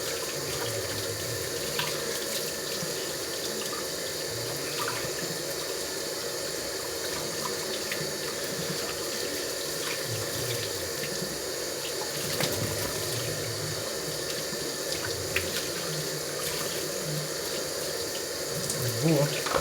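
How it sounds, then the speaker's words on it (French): Tap water runs steadily into a sink while salmon is rinsed of excess salt, a continuous even splashing rush that lasts throughout at moderate volume. "Et rincer comme il faut. Donc tout l'excédent de sel."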